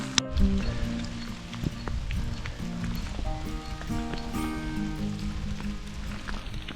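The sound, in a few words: rain falling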